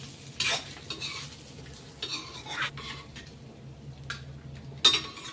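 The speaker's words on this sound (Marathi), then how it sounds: "एक 2च मिनिटं परतून घ्यायचं मनुका टाकल्यानंतर।" Raisins stirred and sautéed into carrot halwa in a pan, with a steady low sizzle broken by several sharp scraping stirs and utensil clinks at irregular intervals, close and moderately loud.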